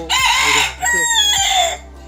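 A tethered rooster crows loudly and close by, one drawn-out cock-a-doodle-doo with a brief break partway through, heard on its own.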